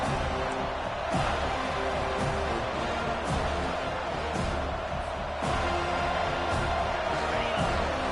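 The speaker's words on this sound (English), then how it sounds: "Listen to this crowd just shaking the girders of this place" A large college football stadium crowd roars and cheers continuously, a dense wall of distant noise with occasional louder swells and thumps.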